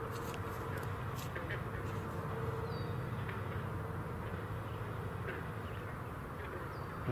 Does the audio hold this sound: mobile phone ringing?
no